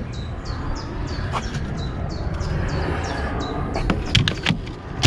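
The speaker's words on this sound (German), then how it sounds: "Also die Vögel sind definitiv lauter." Several birds chirp in quick repeated high notes over a steady low background rumble, with a few louder calls near the end.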